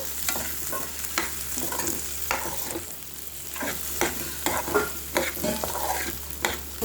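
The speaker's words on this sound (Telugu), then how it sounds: "సో మనం ఇలా మిక్స్ చేసుకోవాలన్నమాట. శనగలు ఆనియన్స్లో మిక్స్ అయ్యేలాగా." Boiled chickpeas are stirred into fried onions in a hot pan, giving a steady sizzle broken by frequent scraping and clinking strokes of a spoon at an irregular rhythm; close and fairly loud, no talking.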